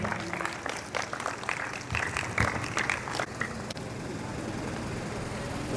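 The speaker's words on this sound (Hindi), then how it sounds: "तालियां बजाइए।" Applause at an award ceremony honouring maths toppers, a fairly faint patter of clapping from a gathered crowd over a couple of seconds that fades into room noise.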